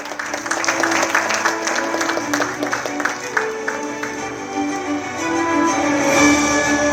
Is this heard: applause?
yes